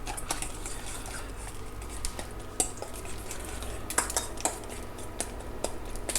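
Egg mixture with shredded crab and green onion being beaten in a bowl for a crab omelette, heard as a quiet, rapid, steady whisking patter with occasional sharper clicks of utensil on bowl.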